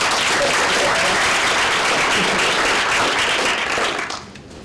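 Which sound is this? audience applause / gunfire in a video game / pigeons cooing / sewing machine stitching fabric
audience applause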